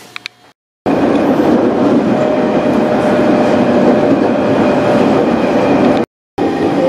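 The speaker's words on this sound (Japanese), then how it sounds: "電車は関ヶ原駅に到着しました" A train pulls into Sekigahara station, a steady loud rumble of wheels and carriage noise heard from on board, with a short break near the end.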